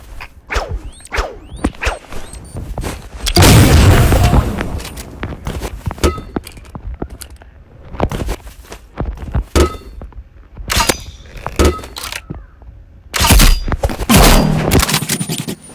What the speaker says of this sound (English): Next, we'll be using the crossbow.